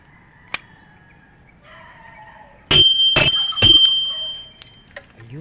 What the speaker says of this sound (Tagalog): So mag-doorbell na tayo.